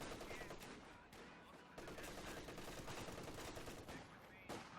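An MG34 machine gun fires in the Company of Heroes 2 video game: a dense, loud, continuous rattle of gunfire with overlapping bursts and no clear break, and no voices over it.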